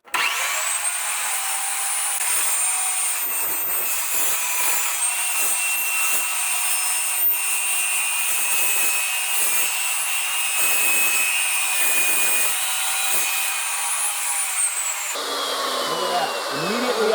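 An Evolution heavy-duty dual miter metal cutting saw slicing through metal, a loud continuous high-pitched whine with a grinding edge holding steady for about fifteen seconds before the blade spins down.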